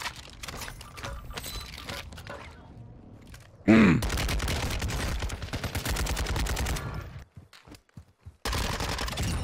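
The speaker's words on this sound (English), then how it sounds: "Someone's sniping." Gunfire in the video game Warzone, a burst of sharp shots followed by a dense rattling stretch, then quiet and a few scattered cracks, loud and close.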